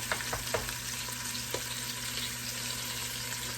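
Turkey wings brown in a hot pan with a steady, dense sizzle and frying crackle throughout, close up, with a few light scrapes from stirring.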